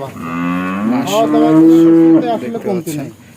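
A Holstein Friesian heifer gives one long, loud, drawn-out moo that swells and then tails off, close by on a farm with no talk over it.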